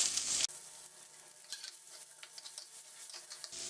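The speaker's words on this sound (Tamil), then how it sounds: "நல்லா வெங்காயம் வதங்கட்டும்" Small onions and chilies sautéing for a chutney with urad dal, tamarind and asafoetida make a low, even sizzle with light stirring, set between two brief louder bursts.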